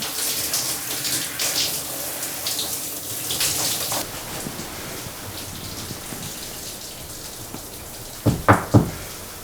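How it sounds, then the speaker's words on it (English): Water streams steadily from a shower, a continuous hiss of spray that softens midway, with a few knocks near the end. "I heard Nick taking a shower in the bathroom."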